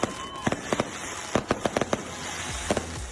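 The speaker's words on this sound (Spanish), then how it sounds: "la colombiana respondió con una serie de fuegos artificiales" A series of fireworks set off outside a house in celebration, with sharp bangs and crackling bursts at irregular intervals, some nearly overlapping, over a continuous noisy background.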